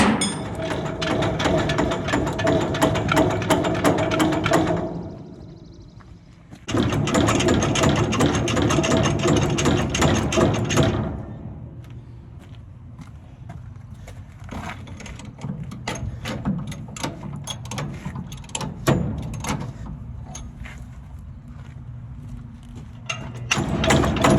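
A Massey 12 baler plunger is worked free with repeated pumping, giving rhythmic ratcheting clicks and mechanical clatter, loud in long bursts and then sparser and quieter, with a few thumps.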